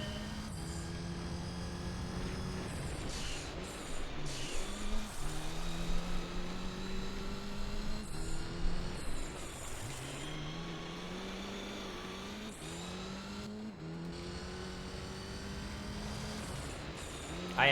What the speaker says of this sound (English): enjoy the sneezing sounds of the turbo